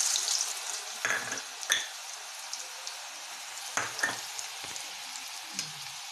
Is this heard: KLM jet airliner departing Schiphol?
no